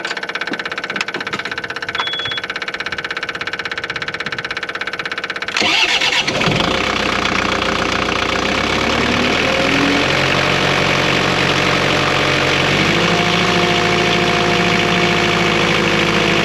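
Car engine on an LX665 after an exhaust repair: quiet rattles give way to a sudden crank and catch around six seconds, then a loud, steady idle with a low rumble that carries on to the end, no talking.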